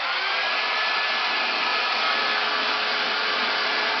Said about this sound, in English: Then you'll take your hair dryer and you'll apply heat to the roots